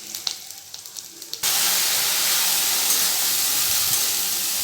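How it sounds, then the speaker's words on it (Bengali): After a few quiet clicks, garlic, onion, green chilli and nigella seeds land in hot oil for a Bengali tempering, bursting into a loud, sustained hissing sizzle that stays strong to the end. "ফোড়নে দিয়ে দিয়েছি রসুন, পেঁয়াজ, কাঁচা লঙ্কা আর কালো জিরে।"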